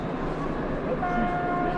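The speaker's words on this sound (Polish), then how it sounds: "naciśnij teraz czwórkę tu, żeby zatrąbić." A model train sounds a steady horn at a Poznań hobby fair in 2016, rising partway through over busy crowd noise and nearby voices.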